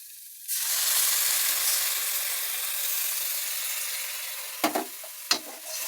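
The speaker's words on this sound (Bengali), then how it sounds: "এরপর যেটা সব থেকে গুরুত্বপূর্ণ মাঞ্চুরিয়ান বানানোর জন্য, সেটা হচ্ছে আমরা এর মধ্যে এবার আমরা যে সসটা বানিয়ে রেখেছিলাম সসটাকে দিয়ে দেবো।" Prepared sauce hits a hot pan of Manchurian with a sudden loud sizzle that settles into a steady, close frying hiss. Near the end come two brief scrapes of a spoon in the pan.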